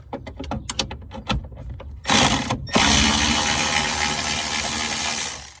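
A Milwaukee power ratchet backs 7mm bolts out of the dash of a 1991 Chevy, with a run of sharp close clicks and metallic rattles followed by a loud continuous motor whir.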